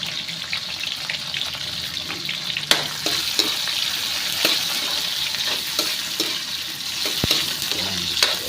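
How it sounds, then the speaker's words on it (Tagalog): Onions sautéing in a pan of oil as a sinigang sa miso with catfish is started, a steady bright sizzle with stirring clinks and a few sharp utensil knocks, no talking. "Gisa po natin, gisa-gisa lang. At ilagay na po natin ang ating sibuyas."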